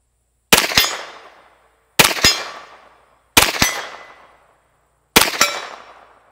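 A MECHTECH Glock carbine fires four evenly spaced shots at an outdoor range. Each sharp crack is followed by a quick echo and a ringing decay, with clear silence between the shots.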